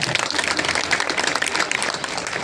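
An audience at a BJP election rally for Vijay Sampla, with MP Hans Raj Hans on stage, claps steadily in a dense, continuous patter that holds at an even level throughout, with no talking.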